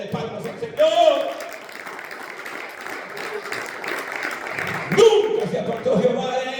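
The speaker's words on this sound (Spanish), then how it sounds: "Denle palmas al Señor" A church congregation claps together at a service, a broad rhythmic wash of palms with voices and a preacher's speech rising over it.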